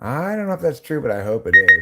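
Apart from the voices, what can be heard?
phone reminder alarm tone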